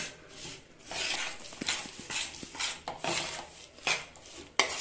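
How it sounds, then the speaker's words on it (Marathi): Jaggery being stirred in a pan over low heat while making peanut chikki, a continuous scraping and rasping of a spoon against the metal, in repeated strokes with occasional light clinks, close up and without talk. "छान असा गूळ हलवत राहायचा, नाहीतर तो चिकटतो"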